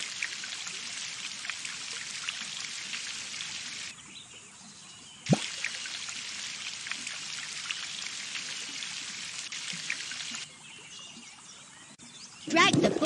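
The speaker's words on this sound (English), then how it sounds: "Now drag it to water the seedlings." Water from a watering can pours onto seedlings in a BabyBus kids game, a bright trickling splash that runs in long stretches with short pauses between, joined by a quick pop and a chime near the end.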